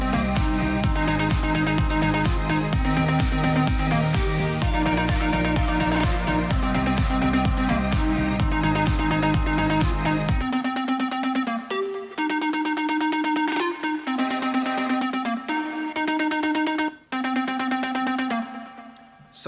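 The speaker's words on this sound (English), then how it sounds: "So the drop of this song is going to sound like this." An electronic dance music drop plays back loud and continuous: a pounding beat with dense synth chords for about ten seconds, then a thinner section of steady synth stabs with the low end dropping away.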